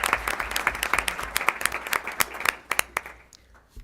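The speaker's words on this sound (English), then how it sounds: "now applause for all of them" At a school board of education meeting, a room claps for the district's music teachers. The applause starts as a moderate patter of distinct claps and thins out to scattered last claps before fading.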